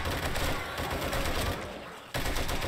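Rapid, sustained M60 machine gun fire during a zombie horde fight in 7 Days to Die, loud and dense, with a short lull near the end before the bursts resume.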